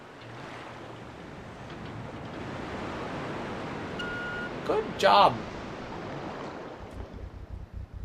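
Steady rushing water from a waterfall in the Resident Evil 2 video game, a broad continuous wash of noise with brief game sound effects near the middle and a short spoken remark.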